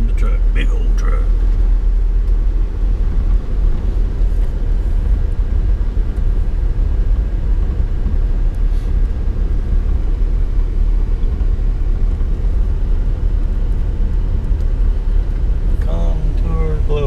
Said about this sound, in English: Here come the truck, big old truck.